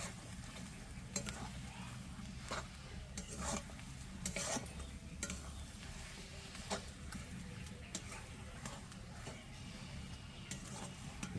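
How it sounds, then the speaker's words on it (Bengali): Boiled potato filling for aloo chop is stirred in a frying pan, giving a steady soft sizzle with repeated scraping and clicking of the utensil against the pan, close and continuous throughout. "জাস্ট 4-5 মিনিট নাড়াচাড়া করলেই হয়ে গেল, কারণ এটা আগে থেকে সেদ্ধ করা আছে।"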